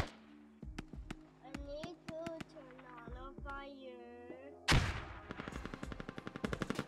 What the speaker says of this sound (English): look at this firing line from the forest